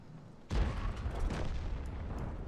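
A T92 HMC self-propelled artillery gun fires in World of Tanks: one sudden heavy boom at about half a second, followed by a sustained loud rumbling blast that carries on to the end.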